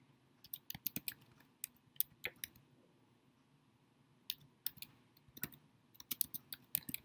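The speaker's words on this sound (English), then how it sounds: "just follow along with what's being typed here" Keys clacking on a computer keyboard in short bursts of quick taps with pauses between them, close and alone against a faint low hum.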